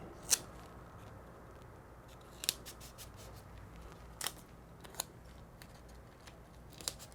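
Tape is torn and pressed onto an in-the-hoop embroidered tuck envelope card holder, giving several short, crisp snips and crackles spaced apart over a quiet background.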